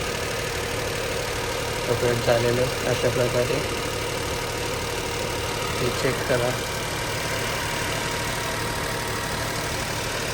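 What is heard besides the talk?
Tata Nexon three-cylinder CNG engine idling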